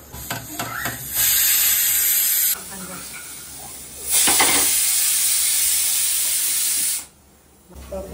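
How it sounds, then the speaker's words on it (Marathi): Rice going into a hot pot of chicken biryani sets off loud bursts of steamy hissing and sizzling that rise and fall in long waves, then briefly drop away near the end. "राईस टाकून घेऊया त्याच्यात."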